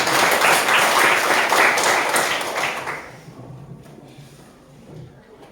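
Audience at a classroom coding and artificial intelligence lesson applauding, a burst of clapping for about three seconds that then cuts off into quiet room noise.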